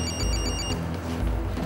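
A telephone rings in a Spanish-language drama, a bright electronic trill repeating in short bursts over low background music, then cutting off partway through.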